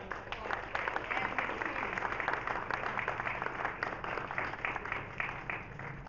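Audience applause at a presentation of a raw water line check in Harrisonburg, dense clapping sustained for several seconds and fairly even in loudness, with a voice mixed in at times.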